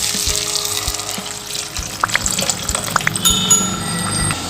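Tamarind water pours into a pot of fish curry with a steady liquid gush and splash, close by, with a few small clinks and no talk.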